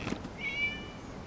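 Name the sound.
cat meowing in Genshin Impact video game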